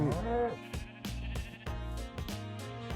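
Sheep bleating repeatedly at close range, several overlapping wavering calls in quick succession, loud and clear with no talking.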